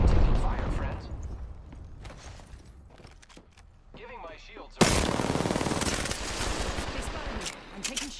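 Automatic gunfire in an Apex Legends arena match: loud rapid bursts start and stop, then a long sustained volley. Speech is heard in places alongside it.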